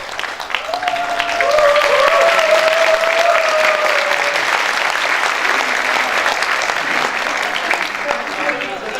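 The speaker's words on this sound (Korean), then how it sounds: "격려의 박수 부탁드립니다" A crowd at a youth party members' rally applauds young members from Songpa, sustained clapping swelling in the first seconds and then holding steady, with voices heard briefly over it.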